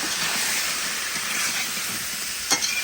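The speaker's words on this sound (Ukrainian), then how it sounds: "Нарізану полутицями і обсмажуємо ще цибульку до золотого кольору" Mushrooms and onions frying in a cauldron give a loud, continuous hissing sizzle, with a brief sharper crackle or stir near the end and no talking.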